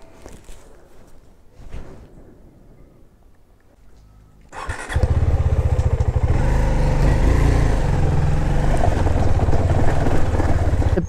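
A KTM Duke 390 BS6 motorcycle sits in water on an off-road outing. After a few quiet seconds its engine bursts into a loud, steady, throbbing run that stays close and continuous to the end.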